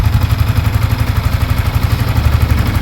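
A Sniper 155 motorcycle engine, a 155 cc bike that has just been started again, idles close by with a fast, even, throbbing beat and a light mechanical clatter, loud and steady with no other sound.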